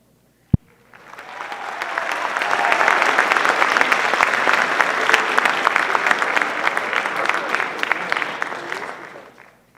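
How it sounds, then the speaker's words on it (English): A single sharp knock, then a sizable audience at a high school winter band concert breaks into sustained clapping that swells quickly and holds steady for several seconds before trailing off. "give them a round of applause"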